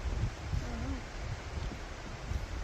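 Wind gusting outdoors on a waterfall trail at Penny Rock in Salt Springs State Park, a steady close buffeting roar with low rumbling gusts throughout.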